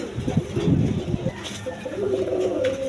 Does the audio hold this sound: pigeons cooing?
yes